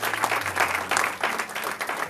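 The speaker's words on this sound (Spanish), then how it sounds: "Denle un fuerte aplauso al Señor." Steady applause from a church congregation fills the space, dense and fairly loud, with a low hum running underneath and no pauses in the clapping.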